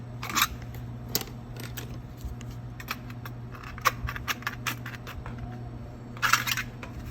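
Snips and clicks of a cutting tool trimming a vinyl siding corner piece during a siding installation, a scattered series of sharp cuts and ticks, close and fairly quiet, with a steady low hum underneath and no talk.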